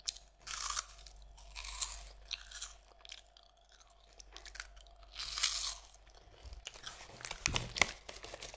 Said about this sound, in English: I like the crunchiness of part of it.